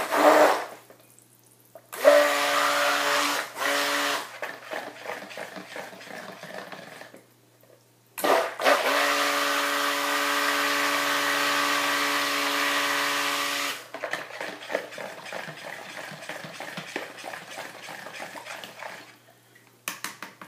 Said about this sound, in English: while I have my stick blender right here, just mix up my white